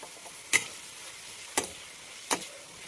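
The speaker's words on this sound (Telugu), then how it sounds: "ఇంక వంకాయలు వేసేద్దాం. వేసాక ఒకసారి బాగా మిక్స్ చేద్దాం" Brinjal pieces frying in oil in a pan are stirred, with three sharp scraping strokes of a utensil spaced about a second apart over a faint, steady sizzle, close and without talking.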